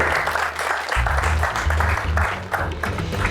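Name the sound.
audience clapping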